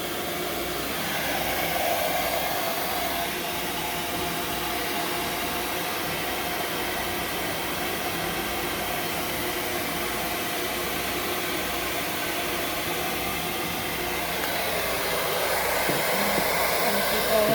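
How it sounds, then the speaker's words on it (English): A hair dryer blows steadily and loudly for the full stretch while a cat's fur is dried, a continuous broadband whoosh with slight swells in level. "I'm just gonna try to dry as much as I can here on him"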